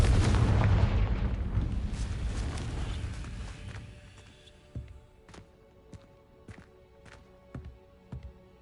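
A Confringo blasting curse explodes in Hogwarts Legacy on PS5 with a loud, broad boom that rolls and fades over about four seconds, followed by scattered sharp crackles and pops in the quieter tail.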